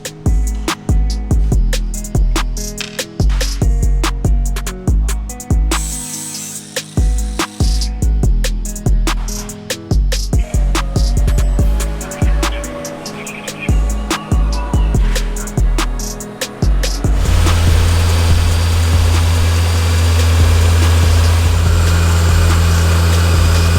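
A Mitsubishi Evo 4's engine runs with a choppy, loping idle and sharp clattering pops for a while, then smooths into a steady loud drone, close and with no talk.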